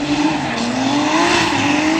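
Drift cars skid and squeal their tires at a night practice session of the Cyprus Drift Championship, with a loud, sustained screech rising in pitch over roaring engines and no voices.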